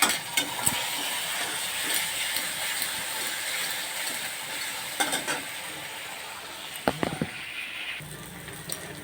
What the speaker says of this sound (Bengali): এই আমার মশলাটা ভাজা হয়ে গেছে, দুটো আলুও দিয়েছি, আলুও ভাজা হয়ে গেছে।